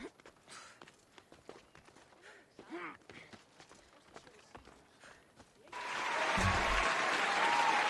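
Quiet talking and soft tapping give way to a sudden burst of crowd applause in the video game Assassin's Creed Odyssey that holds steady to the end.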